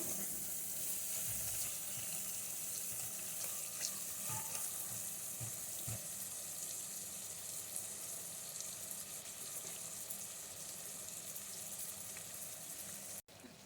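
Chicken and masala sizzle steadily as they fry in a pot, a continuous close crackle that holds at an even level throughout with faint stirring and scraping, and no one speaks.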